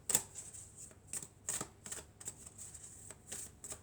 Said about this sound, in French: Alors, on va prendre quelques cartes de l'oracle de la Triade.